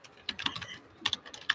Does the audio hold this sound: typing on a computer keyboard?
yes